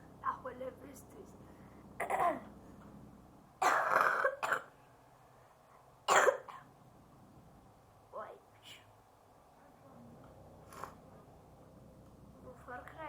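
A person coughs and clears their throat in a few sharp bursts, loudest around the middle, with quieter gaps between them, recorded close up during a City Car Driving game session.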